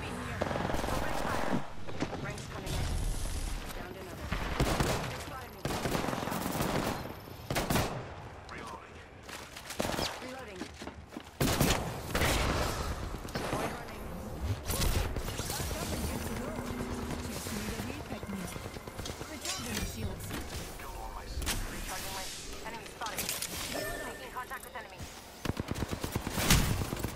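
Sustained bursts of automatic gunfire from the shooter Apex Legends, dense rapid volleys and overlapping shots running through the whole stretch, loud and close, with voices talking intermittently over the firing.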